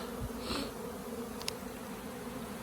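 A large honeybee swarm buzzes around a full hive box in an apiary, a steady, dense drone filling the air with a few louder passes of individual bees close by.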